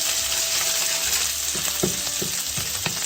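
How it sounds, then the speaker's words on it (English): Garlic fries in oil for linguine with clams, a loud, steady sizzle close by, with several scraping knocks as it is stirred and no talking. "So you just want to get your garlic golden, right? That's it. That's why I'm keep stirring"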